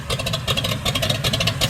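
A Tuff Truck engine idling while it warms up with exhaust pipes not yet fitted, giving a loud, close, rough, pulsing rumble in an uneven rhythm.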